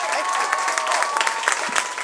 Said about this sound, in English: Ladies and gentlemen, a big round of applause, Roz Hammond.